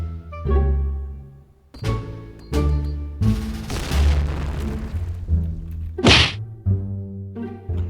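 Several heavy booms and thuds of grenade explosions in the game Point Blank burst out over steady game music, with one long rumbling blast in the middle and a sharp burst near the end.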